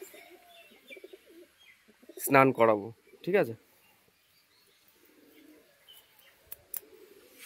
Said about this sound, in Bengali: এই পায়রাগুলো গা শুকাচ্ছে, শুয়ে বসে রেস্ট নিচ্ছে